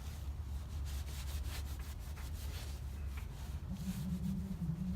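A cloth rag rubs across an oily surface during an oil change on a Badboy Outlaw XP, giving a steady, close scrubbing and swishing texture over a low background rumble, with no talking.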